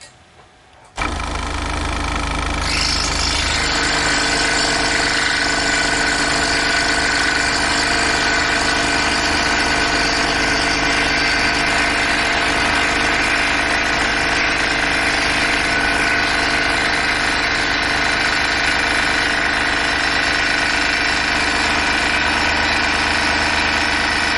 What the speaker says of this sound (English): Now we are going to cut through some 3/4 inch oak